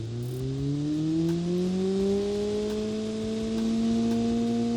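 A simulated Honda K24 four-cylinder engine revs in a computer engine simulator, its synthetic tone climbing slowly and holding at a steady high pitch, continuous and loud without any voices.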